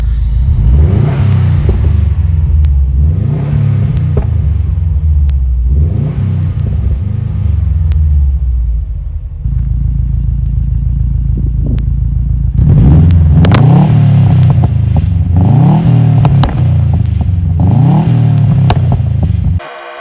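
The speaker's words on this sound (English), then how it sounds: "So I'm going to do some revs here." Subaru STI engine revved repeatedly, a series of rising and falling rev sweeps close by, a pause of steadier idle, then more revving bursts.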